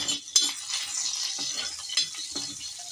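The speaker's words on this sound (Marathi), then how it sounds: "आपण याच्यामध्ये टाकणार आहोत ह्या लसूण ज्या काही मी बारीक केल्या आहेत त्या मस्तपैकी परतून येईल" Finely chopped garlic frying in a pan over a wood-fired stove while mushroom curry is being made, with a soft hiss and a few sharp metallic clinks of a spoon against the pan.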